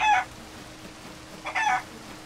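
Two short bursts of chicken clucking from a chicken in the pirate video game Sea of Thieves, one near the start and one about a second and a half later, fairly faint against a quiet background.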